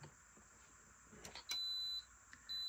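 A high bilge alarm from a Victron Cerbo GX monitoring unit gives two sustained electronic beeps, each about half a second long, after a few faint clicks, close and fairly quiet with no talking.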